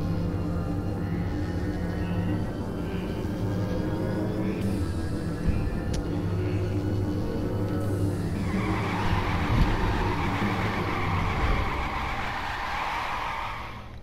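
Virtual car racing in the LittleBigPlanet 3 video game, a steady engine drone with shifting tones and tire squeal, loud and continuous throughout with a brighter surge of noise partway through.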